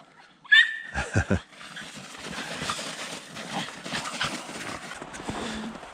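After a few short yips and sniffs, dogs pant steadily nearby, quick rhythmic breathing that carries on at a moderate level.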